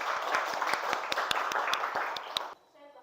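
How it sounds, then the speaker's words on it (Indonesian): Classroom clapping for a student who answered correctly: a handful of sharp, fairly quick claps from a small group over a noisy room with voices, stopping abruptly near the end. "Beri tepuk tangan untuk dia dulu."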